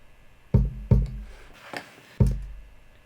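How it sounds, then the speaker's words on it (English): A single kick drum sample in a hip-hop beat, dry with no compression or EQ: four punchy, deep thumps in an uneven groove, each with a short boomy tail, alone and up front. "So the first kick by itself sounds like this."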